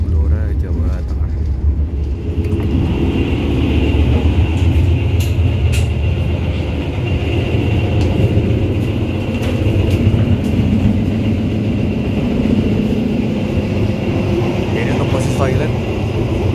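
Steady loud rumble of the Argo Bromo Anggrek express train passing straight through Randu Blatung station in Blora, Central Java, a continuous rolling roar heard from on board, with a faint voice at times.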